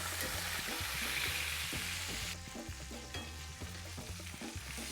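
Steak fries in hot oil in a pan, a loud, constant sizzle with sputtering crackles; the hiss drops abruptly partway through and then continues more softly.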